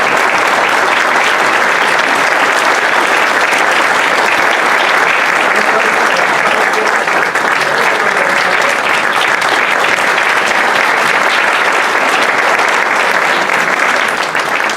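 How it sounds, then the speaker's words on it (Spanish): Loud, dense audience applause fills the whole stretch without a break, a steady wash of many hands clapping at a panel event honoring invited guests. "les voy a pedir un aplauso a nuestra mesa de grandes invitados"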